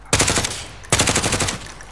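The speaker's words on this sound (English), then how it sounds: "I hear gunfire." Two loud bursts of rapid automatic gunfire in Call of Duty Warzone, close by, each rattling for most of a second with a short pause between them.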